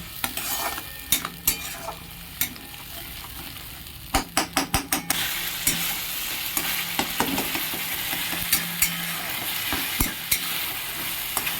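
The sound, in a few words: spice paste frying and being stirred in pan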